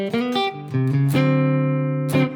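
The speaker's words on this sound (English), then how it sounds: "we're going to add a little turnaround in the last bar," A short blues guitar turnaround in the last bar: a few quick picked notes stepping down, then a sustained ringing chord and a final accented strum.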